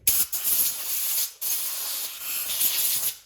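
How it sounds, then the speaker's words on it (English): Compressed air blasts through stock Banshee carburetors in two loud, hissing bursts, each roughly a second long with a brief gap between them. "I'm gonna just hit them with some compressed air just to get some"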